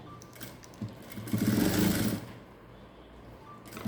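Sewing machine stitching along the edge of a blouse lining, a steady whirring run that swells to a louder burst in the middle before settling back, with no talk.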